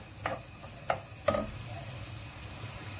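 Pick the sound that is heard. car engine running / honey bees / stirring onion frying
stirring onion frying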